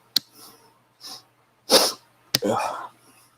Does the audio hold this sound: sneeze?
yes